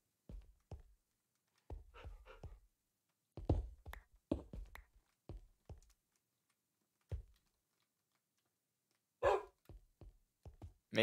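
A Minecraft dog barks in sharp, scattered bursts right outside a house door, close and fairly loud, with silent gaps between the barks and no talking.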